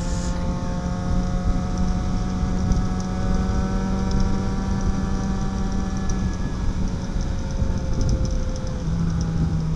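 A Yamaha XJ6 motorcycle engine drones steadily while riding, with rising engine tones and wind rush held at a constant loud level throughout.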